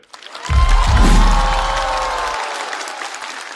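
Audience applause and some cheering erupt at a stand-up comedy show, rising quickly with a deep low rumble at the start, then continuing as a steady, gradually fading clatter of claps.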